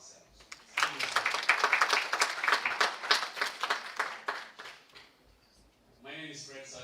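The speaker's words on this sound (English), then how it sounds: "I want to humbly request that we clap for ourselves." An audience at an International Women's Day celebration breaks into lively applause that swells for several seconds, then fades out as a voice begins speaking at the end.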